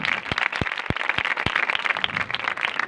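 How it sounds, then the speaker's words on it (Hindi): A church congregation claps for Jesus Christ, with scattered sharp hand claps standing out over a busy, steady wash of applause. "जोरदार तालियां बजाएं यीशु मसीह की।"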